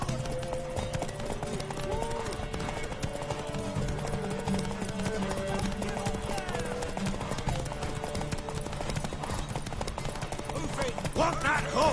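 Steady clip-clop of horse hooves at a running pace in The Witcher 3: Wild Hunt, layered under music and game sound effects throughout.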